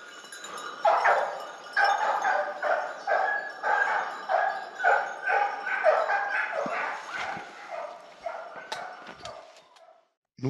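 A pack of hunting dogs on a wild boar drive barking and baying repeatedly in a steady rhythm, fairly close and loud, the chorus tapering off at the end as they lose the trail.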